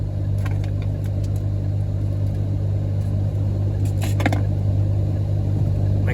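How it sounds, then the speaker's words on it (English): A car engine hums steadily with a low, constant drone, heard from inside the vehicle with a few faint clicks and rattles. "My car sounds weird."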